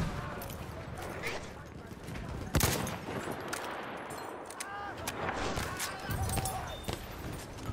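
Machine-gun fire and other gunshots ring out in the video game Battlefield 1, with scattered sharp bursts and a heavy shot near the middle, mixed with busy battle noise and voices.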